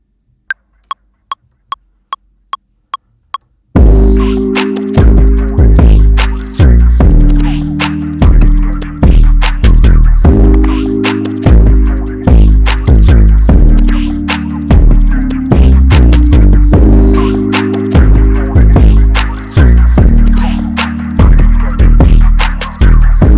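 A loud lofi beat with heavy kick and snare over a low sustained bass, wrapped in crackly static noise and distortion, preceded by a few sparse ticks.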